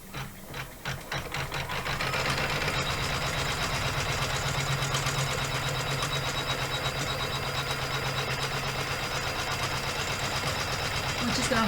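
An embroidery machine stitches fabric for an in-the-hoop pouch, giving a loud, steady, rapid mechanical hum and clatter that settles into a continuous drone after a few uneven starting bursts.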